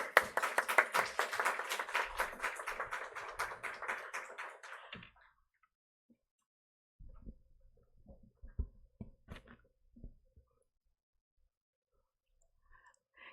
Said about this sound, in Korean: 여러분 큰 박수로 환영해 주시고